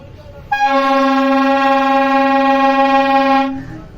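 A toy sounds a loud, steady electronic mail-train horn: one sustained, buzzy tone that holds for about three seconds and then cuts off, heard up close with no talking.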